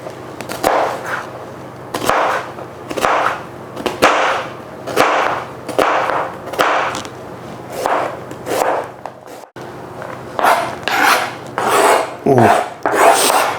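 Fresh onion being finely chopped on a wooden board, a steady run of rhythmic knife strokes in quick bursts, close and crisp, with a short pause midway before the chopping resumes.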